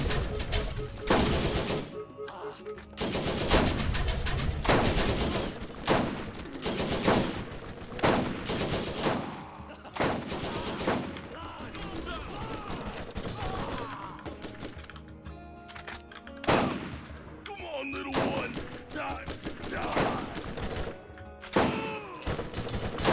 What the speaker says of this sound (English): We're gonna use our sniper rifle.